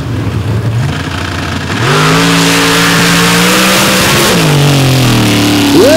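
Nitrous-fed dirt drag race car with a Powerglide transmission launching down a dirt drag strip, its engine roaring loud and steady as the revs climb through the gears, with no voices.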